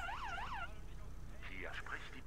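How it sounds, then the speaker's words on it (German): Police car siren in the video game Arma 3, a wailing up-and-down tone sounding briefly and then cutting off, followed by faint scattered electronic chirps over a low engine hum. "Mach mal die Sirene aus."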